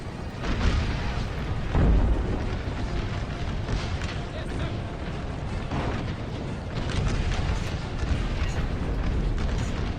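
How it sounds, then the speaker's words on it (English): American Civil War strategy game battle with artillery and mortar fire: a dense, continuous rumbling din of booms and blasts that swells and eases, loud and unbroken. "The mortars are still smacking."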